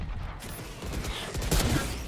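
Gunshots in a video game ring out in a dense, busy burst of rapid fire and mechanical clatter, peaking loudest near the middle of the stretch.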